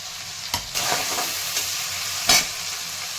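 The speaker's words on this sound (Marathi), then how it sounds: "अद्रक लसूणची पेस्ट तर टाकून घेत आहे" Ginger garlic paste fried in hot oil for baingan bharta, giving a loud, close sizzle broken by a few sharp scrapes of the spatula.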